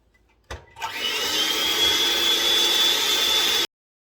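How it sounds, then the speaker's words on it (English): An electric mixer beats a thin flour batter for toad in the hole, a steady loud motor whir that starts abruptly, holds for about three seconds with a faint high whine, then cuts off. "I'm going to use the electric mixer"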